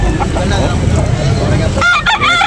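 A rooster for sale at a Filipino poultry market crows loudly near the end, over a busy background of crowd noise and people talking.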